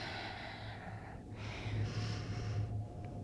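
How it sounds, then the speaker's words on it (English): Slow, audible breathing in and out during a yoga flow of lunges and half splits, a long airy inhale and exhale heard close up and fairly loud, with a steady low hum underneath and no speech. "Breathing in and out."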